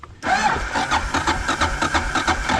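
Suzuki DR650 motorcycle engine sputtering during a push start, cutting in abruptly with a rough, uneven chain of coughing pulses that never settle into a clean idle.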